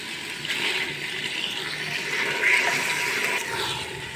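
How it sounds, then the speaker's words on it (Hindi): Half a kilo of boneless chicken goes into ginger garlic paste frying in a pan over high flame, giving a steady broadband sizzle that swells briefly midway, with no talking. "अब मैं इसमें डाल रही हूँ हाफ़ kg बोनलेस चिकन।"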